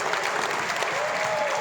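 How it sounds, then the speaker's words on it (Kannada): Loud, dense applause fills the hall for Shashi at a film song launch event, a steady wash of many hands clapping at close range with no break. "ಶಶಿ ಸರ್ಗೋಸ್ಕರ ಒಂದು ಜೋರ್ ಚಪ್ಪಾಳೆ"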